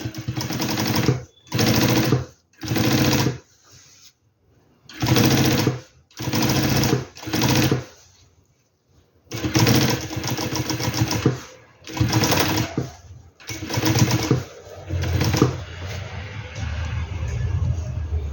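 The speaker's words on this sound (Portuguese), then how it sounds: "aqui eu vou costurar igualzinho no fole do bolso da frente" A sewing machine stitching the gusset of a backpack's front pocket runs in short, loud bursts of a second or two separated by brief pauses, with a longer continuous run near the end.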